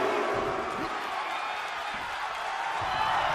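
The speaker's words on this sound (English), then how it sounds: "The sound of this crowd is deafening, and he's asking for more." A deafening arena crowd roars continuously in the WWE 2K23 wrestling video game, a dense steady wash of cheering and whooping that fills the whole clip with no pauses.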